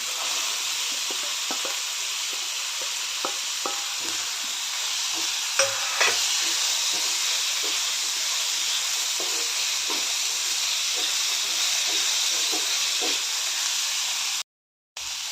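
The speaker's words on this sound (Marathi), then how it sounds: "आता यामध्येच मी मोड आलेले मूग पण घालून थोडेसे भाजून घेते" Sprouted moong beans roast with onion and tomato in a hot pan, a continuous soft sizzle and hiss with occasional scraping stirs, briefly cutting out near the end.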